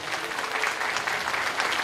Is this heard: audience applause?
yes